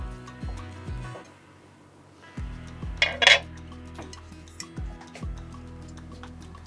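A wok (kadai) is set down on a kitchen stove, giving several close metallic clanks and knocks with short pauses between them, plus a brighter clatter of metal partway through.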